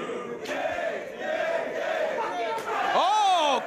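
An indoor wrestling crowd at a Beyond Wrestling event cheers and shouts steadily, a rising rumble of many voices with a loud whoop near the end.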